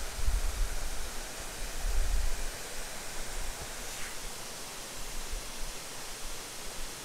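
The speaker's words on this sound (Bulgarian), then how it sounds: "а този дъжд може да и разкаже играта" Heavy rain with large drops pours down in the wild landscape of the Azores, a dense, steady broadband roar with no voices.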